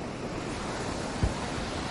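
Ocean surf washing steadily along a shoreline where brown bears gather, a continuous broad roar of breaking waves with a brief low thump partway through, no voices.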